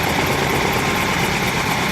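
A helicopter lifts off its skids nearby with a loud, steady roar of engine and rotor that fills the whole span. There is no break and no voices.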